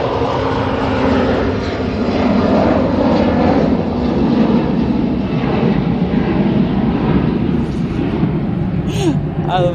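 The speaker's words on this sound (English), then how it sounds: "we've got an Aer Lingus A380 on finals as well now" An Aer Lingus A380 airliner on final approach at an airport gives a loud, continuous, low rumbling engine roar, steady in level, with brief bright sounds near the end.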